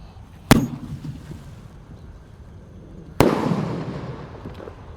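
Two loud, sharp firecracker blasts go off in a hole in the ground about three seconds apart, each leaving a short rumbling decay in the open air.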